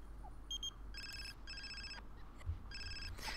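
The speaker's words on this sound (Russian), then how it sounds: "Ну отвечать на телефон мы не будем, ибо она спит." Phone ringing in The Sims 4, a faint electronic ringtone in short repeated bursts with brief gaps between, alone over a low background hum.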